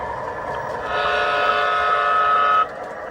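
A Menards Santa Fe model train runs on its track with a steady whirring hum, and a sustained horn-like tone sounds for about two seconds before cutting off.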